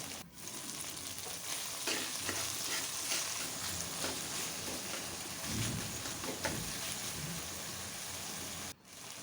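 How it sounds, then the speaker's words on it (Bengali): A paste of ginger, green chili and cumin fries in oil, giving a steady close sizzle with occasional stirring scrapes that runs unbroken until a brief drop near the end, with no talk over it. "আদা, কাঁচামরিচ, জিরে বাটাটা ভালো করে তেলে ভেজে নিব।"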